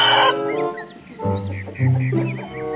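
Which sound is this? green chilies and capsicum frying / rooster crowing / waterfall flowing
rooster crowing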